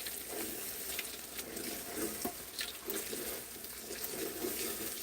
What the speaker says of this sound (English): So we keep frying down the tomato paste,